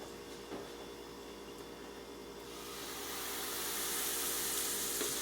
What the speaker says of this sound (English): So now I'm gonna get my batter and put it in the pan